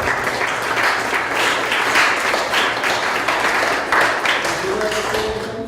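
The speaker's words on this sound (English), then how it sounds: "Let's give him a round of applause." Applause from the audience at a town board meeting in Glenville, New York, steady crowd clapping held at an even level throughout, with a faint murmur of voices underneath.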